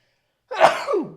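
A single sharp sneeze bursts out after silence, close and loud, trailing off with a breathy tail.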